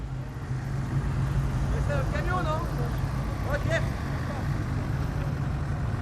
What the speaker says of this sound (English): There's an endless stream of vehicles.